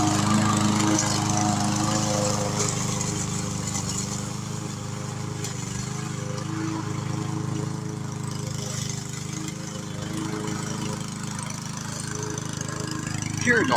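A small, lightweight 144cc gas-powered lawn mower with a bagger runs steadily nearby, its even engine drone continuing throughout with a slight fluctuation in pitch.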